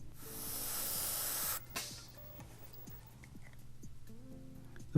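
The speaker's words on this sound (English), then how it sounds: "A coat of varnish or clear helps seal everything done so far." An aerosol can sprays a clear varnish coat onto 1/6-scale WW1 resin helmets, a steady hiss for about a second and a half, followed by quiet faint clicks and handling sounds.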